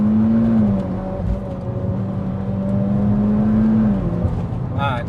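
A Mitsubishi Evo X FQ-440 accelerates in a steady, close in-car engine drone whose pitch rises and holds, with a brief higher whine near the end.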